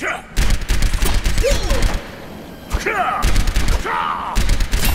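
Gunfire in the video game Overwatch aimed at training bots, dense loud rapid bursts of shots with short gaps, game effects layered over the firing.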